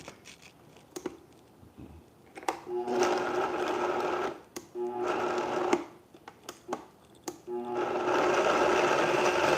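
A blender pulses dried bread for soft stuffing in three or four whirring bursts of a few seconds each, loud and close. Short knocks and clatter fall between the bursts.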